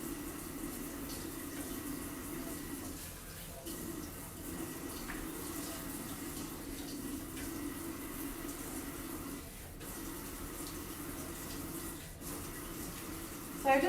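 Slightly warm tap water runs steadily over a stenciled glass piece, rinsing off etching cream, a continuous moderate splashing stream with no voices.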